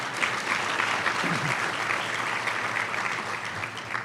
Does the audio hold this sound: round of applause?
yes